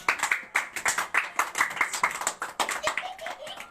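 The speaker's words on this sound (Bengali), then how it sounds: "সবাই সবার জন্য জোরে হাততালি দাও।" Students in a Bengali art drawing class clap loudly together, a dense, steady burst of many hands close by, sustained for several seconds with brief uneven pulses.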